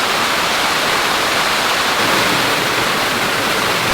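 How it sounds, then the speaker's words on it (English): Waterfall at Bangalore Falls near Coffs Harbour, water flowing down onto rocks, a steady, loud, continuous roar of falling water with no voices. "This is a cool waterfall,"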